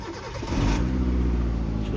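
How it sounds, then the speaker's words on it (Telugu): A 2007 Hyundai Santro Xing XL petrol car engine cranks and catches, then settles into a steady, close idle with a low rumble that fills the rest of the moment. "ఒకసారి ఇంజన్ కూడా స్టార్ట్ చేద్దాం, చూసుకోవచ్చు."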